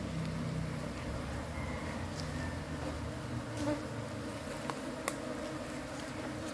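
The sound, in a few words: honeybees buzzing around a hive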